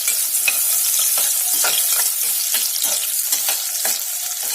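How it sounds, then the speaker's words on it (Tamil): Onion and cut green chillies saute in a pan for tomato rice, a steady close frying sizzle broken by repeated scraping stirs of a spoon every half second or so, with no talking. "அடுத்து கொஞ்சம் ஆனியன் போட்டு நல்லா இப்போ வதக்கி விட்டுக்கோங்க"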